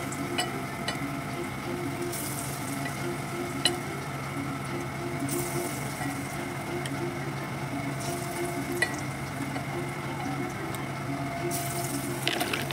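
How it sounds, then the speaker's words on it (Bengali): Paneer chops coated in gram-flour batter frying in hot oil, giving a continuous, even bubbling sizzle close up with faint clinks now and then and no talking. "এই দেখো ভাজা হচ্ছে এখন পনিরের চপ"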